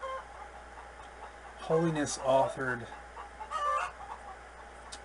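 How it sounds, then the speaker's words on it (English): Chickens cluck in the background, soft repeated calls rising and falling while someone speaks over them. "forgive the background noise, it's my chickens"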